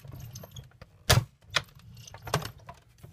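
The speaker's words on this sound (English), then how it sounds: "And that clicking is totally okay. Just means that your framelits are working." Die cutting machine clicking as Thinlits dies run through it for a paper craft treat bag, a few irregular clicks and clunks, one louder snap near the middle, over a low rumbling hum.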